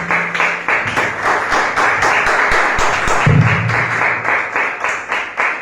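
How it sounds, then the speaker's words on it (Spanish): A church congregation applauds in a loud, dense burst of many hands, with rhythmic clapping pulses and a few thumps, continuing steadily from start to finish. "Un aplauso a Dios"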